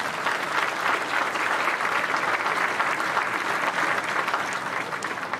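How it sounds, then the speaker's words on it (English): Sustained applause from a large stadium crowd at a Memorial Stadium rededication in Grand Island, a dense, even wash of clapping that holds steady and loud throughout with no gaps. "Let's give them a big round of applause."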